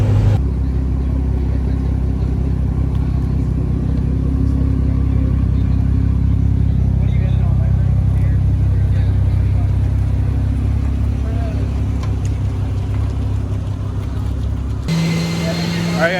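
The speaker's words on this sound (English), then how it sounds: "We're gonna go back in and we're gonna go see some more dyno pulls." Loud, steady engine rumble from a car running on an AWD linked Dynojet dynamometer in a hot shop, holding a sustained drone for most of the pull before cutting off abruptly near the end.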